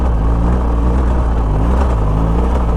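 A BMW GS 1200 adventure motorcycle engine held under steady throttle while climbing a rocky off-road hill, a loud, dense, constant rumble close to the rider with no letup.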